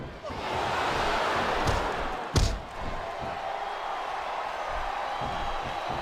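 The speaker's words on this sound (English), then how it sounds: "the crowd has come alive tonight with it" A virtual arena crowd in the WWE SmackDown video game on Android keeps up a continuous roar of cheering, with one sharp slam standing out partway through.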